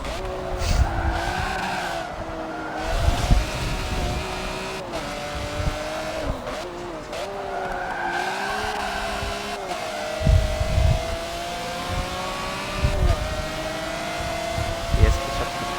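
Racing cars in a video game, including a Porsche and a Ferrari Enzo, with engines whining up and down through gear changes, tires squealing in places, and bursts of louder revving near and far under occasional talk.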